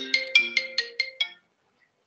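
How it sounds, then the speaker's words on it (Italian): A phone ringtone goes off during a municipal social and youth policy committee meeting, playing six evenly spaced melodic chimes, clear and fairly loud, then stopping abruptly with a faint trailing note. "Scusate, mi sta telefonando"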